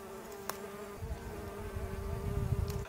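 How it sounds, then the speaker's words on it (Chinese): Bees buzz in rapeseed flowers while collecting nectar, a faint, continuous close-up hum outdoors with no talking. "现在听得到这个油菜花里面那个蜜蜂。 嗡嗡嗡嗡嗡嗡嗡嗡嗡嗡嗡嗡嗡的在采蜜"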